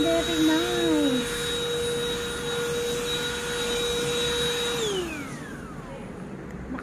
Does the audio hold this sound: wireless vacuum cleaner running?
yes